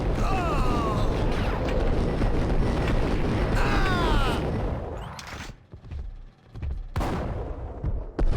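Rapid gunfire and impacts ring out in a Max Payne shootout on Xbox One, dense bursts of shots with clattering mechanisms for about five seconds, then scattered single shots and thuds among quieter gaps.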